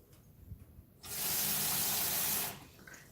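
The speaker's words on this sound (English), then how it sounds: "I'm going to put some water" Water poured into a still-hot stainless steel frying pan gives a loud, steady hiss of about one and a half seconds that starts abruptly and cuts off, with quiet clatter before it.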